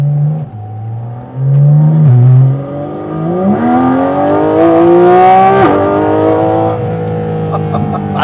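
Porsche 718 Cayman GT4 RS engine and intake revving with PDK in sport mode, heard from inside the cabin: a loud, rising multi-harmonic howl that climbs steadily, peaks and drops briefly, then holds a high whine with no talking.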